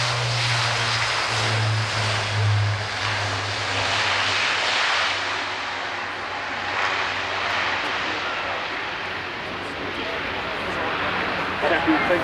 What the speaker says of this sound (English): taking the A400M into the air to go out to the hole